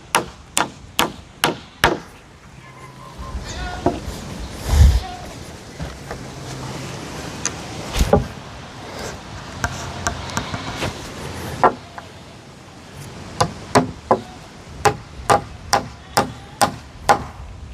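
A hammer tacks framing pieces into place: sharp, loud, evenly spaced strikes in quick runs at the start and end, with a few isolated knocks and faint background noise between the bursts.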